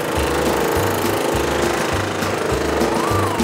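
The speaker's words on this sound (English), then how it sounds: "a precision cutter cuts through the wood" A precision cutting machine sawing through a stack of wooden jigsaw puzzle boards, a loud, close, rapid reciprocating chatter with a steady pulsing drone underneath.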